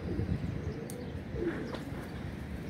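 Soft pigeon cooing and faint bird calls over a steady low background hum, fairly quiet and a little distant.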